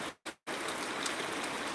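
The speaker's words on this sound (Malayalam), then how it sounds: "ഇപ്പോൾ വീണ്ടും ഒരു പന്ത്രണ്ടേ കാലമായപ്പോൾ നല്ല മഴ പെയ്തു" Heavy rain pours down in Changanacherry, Kerala, in a dense, even hiss of falling water. The sound briefly cuts out twice at the start, then continues unbroken and close.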